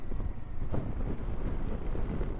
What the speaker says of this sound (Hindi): भाई ऐसी खतरनाक हवा चल रही है, पूछो मत